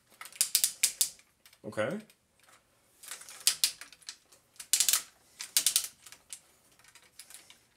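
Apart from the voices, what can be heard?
ratcheting waist swivel joint on a Machine Robo metal figure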